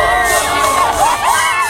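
A loud stadium crowd at a football match roars and cheers after a late goal, many voices shouting and whooping together in a dense, continuous wall of excited noise.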